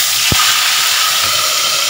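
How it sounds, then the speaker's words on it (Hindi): Fish frying in hot oil for a fish curry with mustard paste, a loud, steady, close sizzle and hiss running throughout, with one brief low thump near the start and no voices. "पहले हम फ़िश को फ्राई करते हैं"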